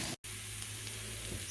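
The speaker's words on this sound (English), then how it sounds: "take some butter, put it in a skillet, add a whole onion sliced, and get those going real nice" Sliced onion frying in butter in a skillet, giving a steady, close sizzle with a brief silent dropout near the start.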